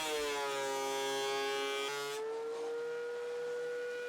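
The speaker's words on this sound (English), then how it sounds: "and then you feed it through the planer." A thickness planer runs with a steady high whine as cherry boards on a planer sled feed through, the pitch dropping slightly as the cut loads the motor, loud and close with no voices.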